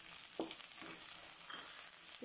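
Green chili, curry leaves, garlic and ginger fry in hot oil, a soft steady sizzle with a few faint stirring scrapes, fairly quiet and without talk.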